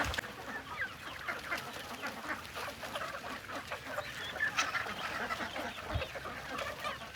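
Ducks and chickens on an open farm cluck and quack continuously, a busy flock chatter at moderate distance with no talking over it.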